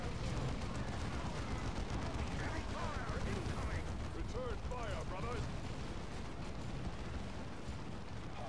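Grenade blasts and gunfire fill a battle in the Dawn of War II: Chaos Rising video game, a dense, continuous roar of rumbling explosions and shots with game voices mixed in throughout.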